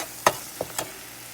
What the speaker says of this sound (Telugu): ఈ మసాలా కూడా ఆయిల్లో మంచిగా కలగాలి